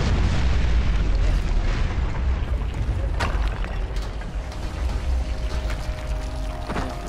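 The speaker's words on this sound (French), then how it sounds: "Du coup, on a même pas vu l'explosion." A loud, dense roar of explosion-like rumble fills the scene in the Dying Light video game, with broad low-end thunder and crackling debris that slowly fades, and a voice briefly heard beneath.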